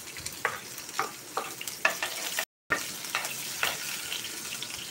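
Garlic sautéing in a frying pan, a steady sizzle broken by repeated stirring scrapes at a close, moderate level, with a brief dropout midway.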